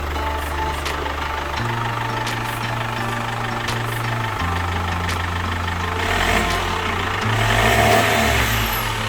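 A Chevrolet Captiva FL diesel engine idles steadily up close, then is revved several times in stepped bursts, ending in a louder, longer rev.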